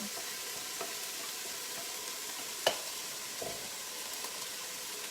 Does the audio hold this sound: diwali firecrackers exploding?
no